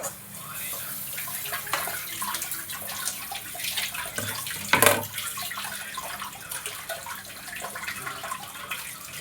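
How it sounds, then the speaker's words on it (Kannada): Water is poured into a pan of cooking potato curry to loosen it into a gravy, a close, continuous splashing and trickling pour with a brief louder gush midway and no speech. "ಸ್ವಲ್ಪ ಗ್ರೇವಿ ಥರ ಬರಲಿ ಅಂತ ಸ್ವಲ್ಪ ನೀರು ಹಾಕೋತಾ ಇದ್ದೀನಿ"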